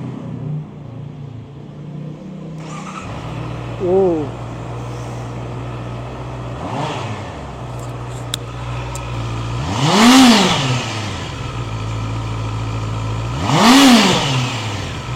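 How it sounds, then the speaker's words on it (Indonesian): A Honda CB650R 648.7 cc inline four-cylinder motorcycle idles steadily, then is revved hard three times with sharp rising and falling sweeps, the later two blips loud and close, each dropping back to a smooth idle. "Nah, jadi itu adalah suara motor 4 silinder inline berkapasitas"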